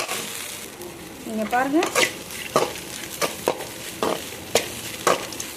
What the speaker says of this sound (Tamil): இப்போ நல்லா வதக்கி விட்டுக்கலாம்.